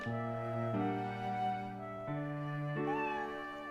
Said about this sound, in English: Kitty.